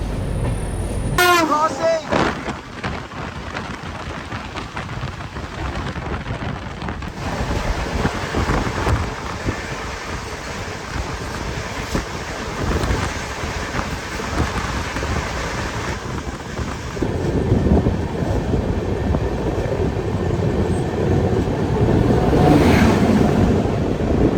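The Durg–Udhampur Superfast Express runs after departing Anuppur, a loud continuous rumble and clatter of the moving train with wind buffeting and a brief tonal whistle near the start.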